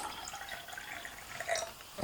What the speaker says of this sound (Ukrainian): Так, наливаю водичку.